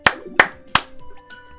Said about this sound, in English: That's a certain round of applause for Tyler Fields.